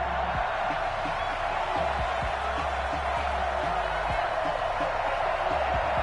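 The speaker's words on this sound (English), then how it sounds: "this crowd is ready to go as their guys will match up with Dak Prescott and the Dallas Cowboys" A stadium crowd in an EA Sports NFL football video game, at a Dallas Cowboys matchup, gives a steady, continuous broadband roar that fills the whole stretch without a break.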